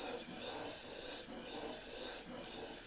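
A steel chisel rubbed back and forth on a sharpening stone by hand, in a figure-of-eight motion to polish off old grind marks, giving a steady, close gritty rasp with no pauses.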